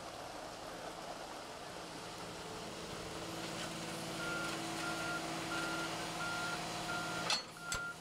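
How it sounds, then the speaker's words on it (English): Trucks lining up for road resurfacing work, their reversing alarms beeping steadily over a constant engine rumble and idling, heard from a moderate distance with no talking. "They line up the trucks."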